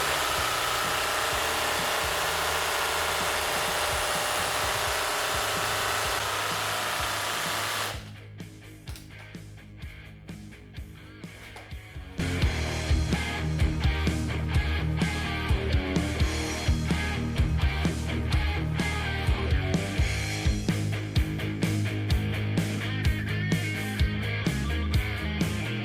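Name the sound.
paint can shaker machine shaking a spray paint can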